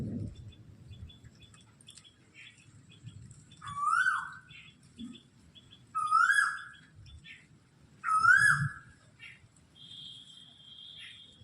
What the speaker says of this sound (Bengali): আবার কোকিলও ডাকছে।